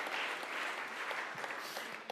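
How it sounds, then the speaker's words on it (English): Dense, continuous audience applause fills a conference hall during a business summit talk, steady clapping from many hands at moderate distance with no voices over it. "So that's a round of applause."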